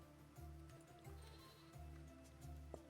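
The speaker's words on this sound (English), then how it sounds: "Goat." Goat bleating in the video game Vintage Story: several nasal, wavering bleats in a steady rhythm, moderately loud over a low ambient game hum.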